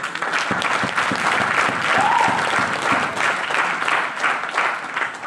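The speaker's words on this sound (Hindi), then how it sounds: "तो एक जोरदार तालियां होनी चाहिए" An audience at a wellness business event gives enthusiastic applause, a thick sustained roar of many hands clapping at even loudness, with a brief voice rising faintly through it midway.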